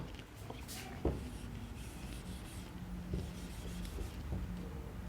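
Pen or marker scratching out a word on a board or paper during a grammar lesson, soft intermittent rubbing strokes with small taps, quiet and close, no talk over it.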